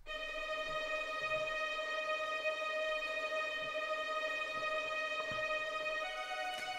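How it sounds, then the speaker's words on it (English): Native Instruments string ensemble playing a tremolo articulation, a sustained shimmering chord of stacked steady tones held alone and loud throughout, with a slight shift in the voicing near the end. "it's the string ensemble by Native Instruments, and I'm using the tremolo articulation"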